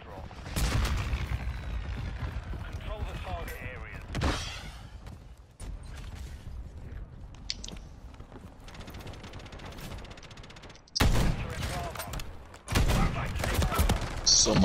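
Gunfire from an unmodified gun with heavy recoil in a first-person shooter video game, crackling bursts over a game soundscape, with sharp loud volleys near the end and someone talking at times.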